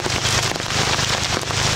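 Heavy rain drums on a camping tent at night beside a fishpond, a loud continuous patter with dense crackling drops close overhead, no talking.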